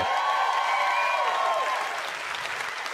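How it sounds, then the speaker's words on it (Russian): A stand-up comedy audience in Los Angeles applauds in a dense, steady wash of clapping, with a brief whistle-like tone gliding over it early on before the clapping tapers slightly. "Аплодисменты"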